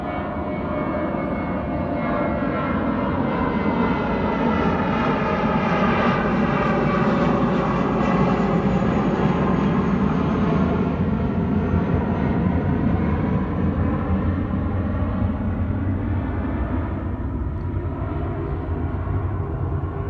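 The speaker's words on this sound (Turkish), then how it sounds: "uçak gürültüsü e, olmazsa olmazlarımız" An airplane roars overhead in a long, steady drone that swells and slowly fades, with no voices.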